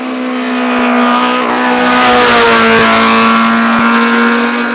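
A late-1960s Vixen Imp VB1 Formula 4 race car with a 1 litre Hillman Imp engine climbs a hillclimb course, its loud, high-revving engine swelling close by with rising and falling pitch through gear changes.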